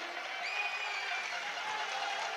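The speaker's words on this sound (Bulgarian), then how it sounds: "Ето аплодисменти за нашите момчета" Steady applause from a crowd at a futsal match in Varna, a dense continuous wash of clapping that holds at an even level throughout.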